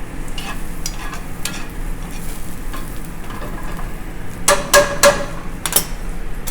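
Vegetables fry in a pan under a constant sizzle, and several louder scraping pushes come near the end as they are moved across the surface; no one speaks.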